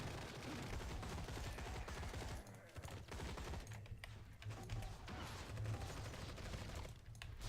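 Grenade explosions and rapid gunfire from the Marvel Heroes Omega video game with a Winter Soldier ranged build, forming a dense, continuous barrage of overlapping shots and bursts at steady intensity.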